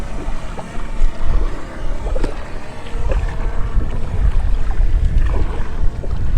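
Wind blowing over open water where a kayak is paddled, a steady loud low rumble with gusty buffeting on the microphone and no speech.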